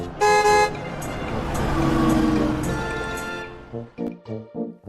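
A bus horn sound effect blares in two loud, short honks, followed by a rumbling vehicle pass, then a voice speaks near the end.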